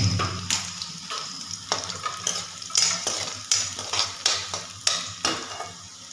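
Spices fry in hot oil for restaurant-style matar paneer while a utensil stirs and scrapes the pan in a repeated rhythm of clanks over a continuous sizzle.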